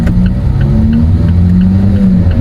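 An Alfa Romeo 4C with an ECU tune on an otherwise stock engine and air cleaner, its exhaust droning loud and close at a steady idle, with faint, regularly spaced bubbling pops over the low rumble.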